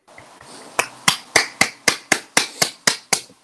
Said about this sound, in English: All right, that's some nice applause there